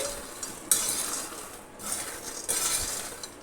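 A spoon scrapes and clinks steadily through roasted makhana coated in ghee with basil leaves in a pan, soft and close, with a few sharper metallic knocks and no talking.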